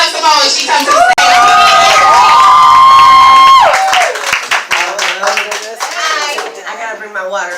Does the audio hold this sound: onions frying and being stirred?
no